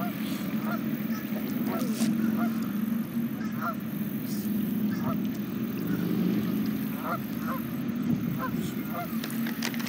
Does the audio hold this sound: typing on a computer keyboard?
no